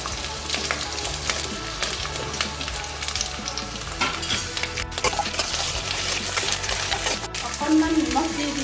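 Mixed vegetables for khichdi, including carrot, pumpkin and potato, fry in a pan with a loud, continuous sizzle and crackle, broken by occasional clinks and scrapes of stirring.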